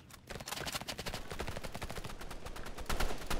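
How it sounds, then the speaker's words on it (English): Rapid bursts of gunfire in the online shooter game Rivals, sharp cracks firing in quick automatic volleys with a few single shots, fairly close and growing slightly louder toward the end. "I'm getting shot at, bro"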